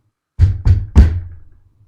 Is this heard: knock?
yes